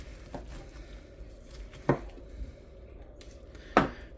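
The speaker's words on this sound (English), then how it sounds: "So, I'm going to take and cut right down this piece." A knife cuts down through a piece of cooked ham on a board, giving three separate sharp chopping thuds spaced about two seconds apart, close and moderately loud over a quiet background.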